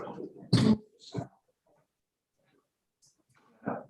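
A short, harsh throat-clearing burst near the start of a public tax rate hearing, followed by a second brief rasp, then near silence before a voice resumes.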